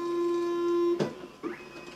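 A Javelin J310C card printer runs a test print card, giving a steady mechanical whine that cuts off with a clunk, followed by softer whirring and shifting motor noise close by.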